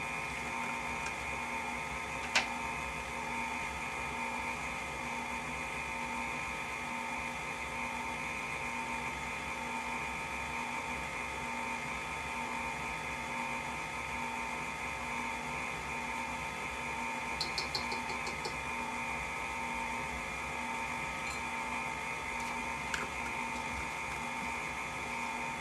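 An electric mixer blending shower steamer ingredients in a bowl, giving a steady, fairly faint motor whine that runs unbroken throughout, with a couple of small clicks.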